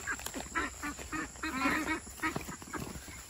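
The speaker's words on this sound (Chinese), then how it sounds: "哎呀，这个鸭子，" A duck on a farm quacks repeatedly in loud, close, harsh bursts, calling almost continuously with little else around.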